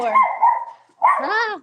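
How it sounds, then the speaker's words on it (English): A dog barks in two loud, close, drawn-out yelps, the second rising into a whiny howl-like tone, with a brief gap between them. "There's my dog's barking."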